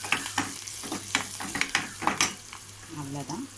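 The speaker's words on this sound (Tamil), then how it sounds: "இப்போ பெருங்காயம் ஆட் பண்ணிக்கலாம். சும்மா ஒரு வதக்கிடுங்க." Asafoetida sautéed in hot tempering oil for a chickpea curry, a crackling sizzle with repeated sharp scrapes of a spoon against the pan, close and fairly busy, with a short bit of voice near the end.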